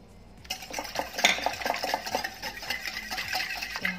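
Dough ingredients stirred together with yeast and sugar in a bowl for mini pizza, a steady close scraping and clinking of utensil against the dish, continuous for a few seconds with no talking.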